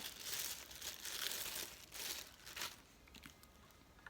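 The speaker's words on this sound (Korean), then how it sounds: "비닐장갑을 껴서 좀 힘들어서 이제는 조금 벗도록 할게요" Thin vinyl plastic gloves peeled off by hand, quiet close crinkling and rustling in several soft bursts that fade to faint scattered crackles near the end.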